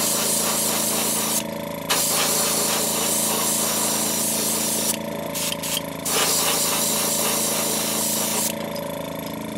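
Createx opaque white base coat paint sprayed through an airbrush, a loud continuous hiss in several long bursts separated by brief pauses.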